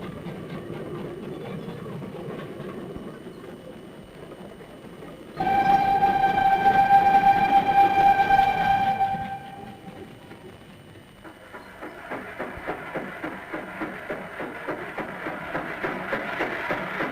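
A steam train runs on the North Yorkshire Moors, a rumbling run broken by a long, loud whistle blast, then rhythmic chuffing and wheel clatter building again.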